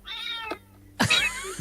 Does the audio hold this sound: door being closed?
no